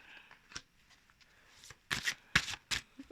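Tarot cards are shuffled in quick, crisp riffles that are close and soft at first, then grow louder and denser in several short bursts.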